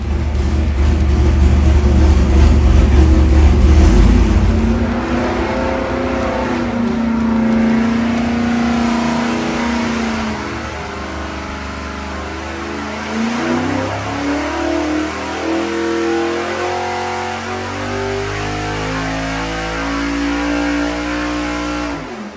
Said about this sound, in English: we're going to make a baseline pull with the 1050 gas carburetor